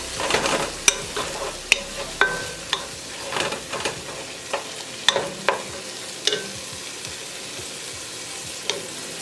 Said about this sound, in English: So that's how it's frying. So you stir it up.